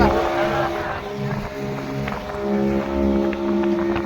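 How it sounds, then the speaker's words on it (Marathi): A fast motor boat running on the dam lake at Bhandardara, its engine droning steadily and close with water rushing and wind noise around it throughout. "लय फास्ट चालू आहे बोट"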